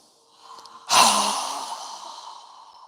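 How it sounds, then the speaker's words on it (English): A single strong, forceful exhale during a yoga breathing exercise, a sudden loud rush of breath that trails off slowly, heard close and alone after a faint inhale. "So go ahead and inhale. Again. Strong exhale."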